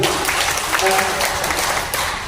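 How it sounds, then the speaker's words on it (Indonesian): An audience at a 2024 arts-studio management workshop applauds Mas Agung: a dense, steady wash of clapping with voices mixed in throughout. "Tepuk tangan kagum Mas Agung."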